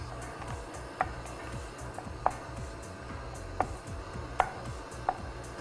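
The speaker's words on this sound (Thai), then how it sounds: "มิลช็อกโกแลตนะครับ คนใช้ 150 กรัม ก็เราจะสับหยาบๆ" A knife roughly chops milk chocolate on a board in about five sparse, sharp taps against a low background hum, with no voices.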